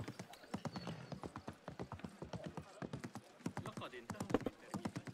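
A horse's hooves clip-clop in a video game, a quick, steady run of distinct hoof strikes at moderate distance, unbroken for several seconds, with occasional soft mechanical rattles.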